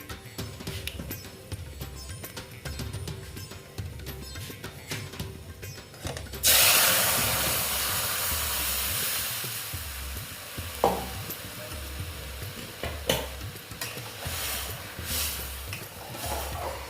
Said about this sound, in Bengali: এবার আমি ডালগুলো দিয়ে দেবো